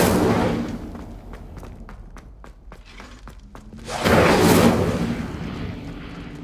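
An Incendio fire spell is cast in the video game Hogwarts Legacy, a burst of whooshing flame that swells loudly and then lingers as a roar, after a stretch of quieter footsteps and thuds.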